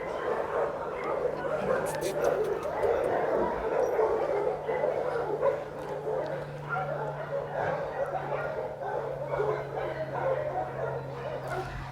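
Puppy during training yipping, barking and whimpering in repeated short bursts under continuous nearby talk, with a low steady hum behind.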